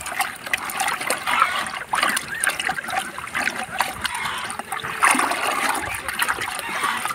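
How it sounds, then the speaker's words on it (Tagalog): Water being stirred by hand to dissolve salt and molasses for a poultry feed mixture: continuous close sloshing and splashing with irregular swirls and small splatters. "Nasa haluin natin para matunaw yung asin tsaka yung molasses."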